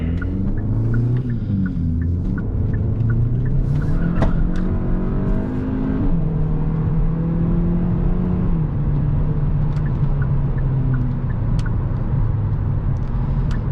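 A 2021 Hyundai Elantra N Line accelerates in sport mode on Continental all-season tires, its loud engine drone rising and falling in pitch as it pulls through the gears, heard steadily from inside the car with no talking.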